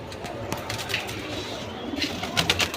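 Silver pigeons coo softly and repeatedly nearby at a pigeon sale, with low murmuring calls and light rustling in a busy background.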